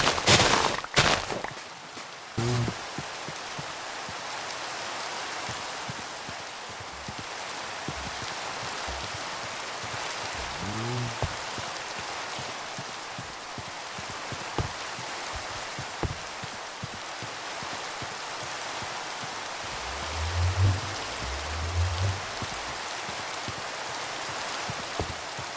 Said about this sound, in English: Well, it's raining right now, which means hopefully it won't be raining on our last day.